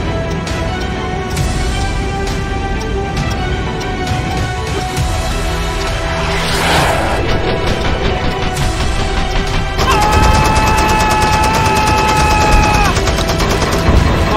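Rapid bursts of machine gun fire ring out from fighter jets in a 1965 air battle scene, loud and sustained under a droning engine roar with whining tones.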